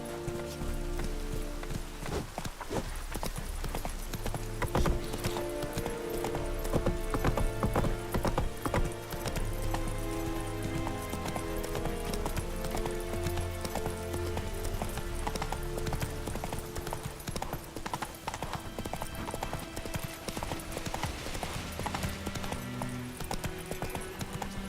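Roach, Geralt's horse in The Witcher 3, running with loud, rapid hooves clip-clopping continuously up close over a dense bed of game music and ambience.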